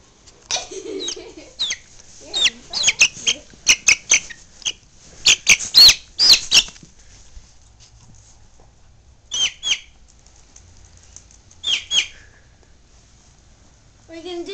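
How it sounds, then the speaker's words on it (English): A backyard chicken gives a series of short, sharp clucks and squawks in irregular bursts, fairly close, with quiet gaps between calls. "She's playing with the chicken."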